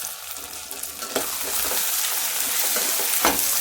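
Onion and tomato sauté in hot oil for a spicy Shankara fish curry, a steady close sizzle building louder with a few sharp scraping stirs, no voices.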